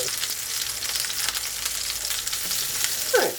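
Lamb shanks browning in oil in an earthenware tagine pot, giving a steady, close sizzle and crackle of frying that runs the whole time with no voices.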